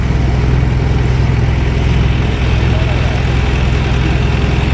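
A boat engine drones steadily on the river at Varanasi, loud and close, with a constant low chugging hum and no break across the whole stretch.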